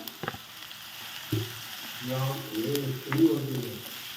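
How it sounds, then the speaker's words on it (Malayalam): Two hundred grams of onions sauté in oil for a Hyderabad chicken biryani, a soft hiss punctuated by a few sharp clanks of the pan. A low murmuring voice is partly heard over the sizzle. "ഇരുന്നൂറ് ഗ്രാം ഉള്ളി നമുക്ക് വഴറ്റാം"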